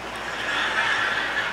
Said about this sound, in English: It's a horse. It's a stinking horse then.